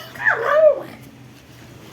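Small dog giving a few close, high whimpers and yips, loudest in the first second and then trailing off, with no talk over it.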